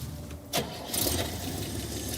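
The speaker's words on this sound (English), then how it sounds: "and then Steve will fire the engine up" An engine cranks briefly, catches with a burst, then settles into a steady idle.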